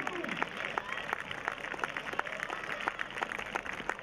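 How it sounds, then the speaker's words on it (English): A crowd at a school sports day after a girls' 100-meter final claps steadily in faint, distant, scattered applause, with some talking mixed in. "I don't know whether the claps are for the kids or because it's the last event"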